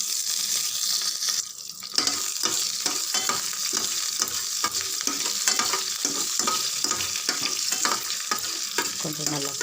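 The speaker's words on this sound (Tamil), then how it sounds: "பாருங்கள், நல்லா பொரிஞ்சிடுது" Mustard seeds, urad dal, fennel, dried red chillies and curry leaves splutter in hot oil for a chutney tempering, giving a steady close sizzle broken by rapid irregular crackling pops, with no speech.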